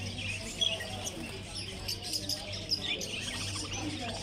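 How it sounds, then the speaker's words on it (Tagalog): Small caged birds at the bird and rabbit stalls of Souq market in Doha chirp faintly in short scattered tweets, mixed with crowd murmur and nearby talk. "kung gusto niyo po na bumili ng ibon at mga kuniho, dito lang po kayo sa Souq."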